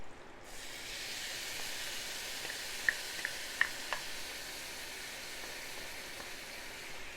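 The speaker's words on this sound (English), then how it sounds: "Pan's getting hot. Onions are going in." Onions, some of them frozen, hit a hot pan and sizzle with a steady, soft hiss, broken by a few small pops and crackles.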